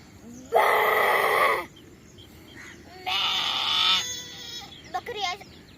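A man imitates a goat bleating with his voice, two loud wavering bleats separated by a pause, then a short fainter quavering call.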